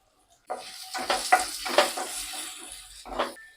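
Curry leaves drop into hot oil with cumin, setting off a soft burst of sizzling and crackling that swells in short waves and then settles, quiet and close, with no one talking.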